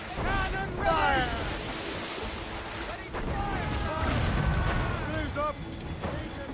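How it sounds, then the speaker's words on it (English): Ship cannons boom in a naval battle in Assassin's Creed Rogue, heavy volleys rolling out over wind and surging waves while crew voices shout across the deck. "Cannon Fire!"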